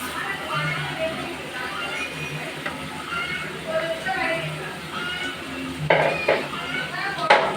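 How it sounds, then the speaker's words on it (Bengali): Dried shrimp sizzles and fries in a pan on a home stove while a utensil stirs and scrapes, with a few metallic clinks, as a voice talks over the cooking. "এখানে আসলে চিংকি সুটকিটা দিয়ে দিচ্ছি"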